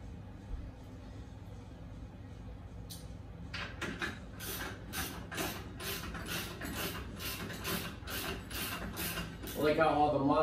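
Leg bolts being hand threaded into a Medieval Madness pinball machine, giving a rapid series of small metallic clicking, ratcheting turns over a low background hum.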